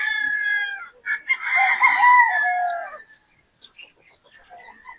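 Battle stag roosters crow loudly and close, one long crow rising over the others, followed by scattered clucks and shorter calls from nearby fowl.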